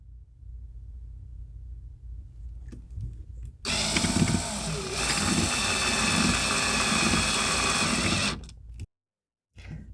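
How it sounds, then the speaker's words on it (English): A power drill drives a screw into closet door molding during a bifold closet door install, whirring loud and close for about five seconds, with quieter handling noise before and a short burst after. "Okay, so I'm going to drive this first screw in."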